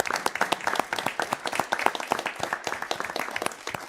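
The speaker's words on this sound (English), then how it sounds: "Let's give it a round of applause for Local Government Week." Applause fills a city council meeting chamber, many people clapping steadily and moderately loud for nearly four seconds, with no talk over it.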